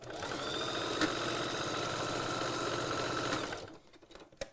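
A sewing machine stitching bag seams runs as a steady, rapid mechanical whir for several seconds, then stops abruptly, leaving quiet room noise and no talk.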